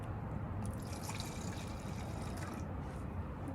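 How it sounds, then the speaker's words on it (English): Vinegar poured into cups at home for a baking soda volcano experiment, a steady liquid trickle and splashing running continuously at close range for a few seconds, with no talking. "First, we'll add half cup of vinegar in each cup."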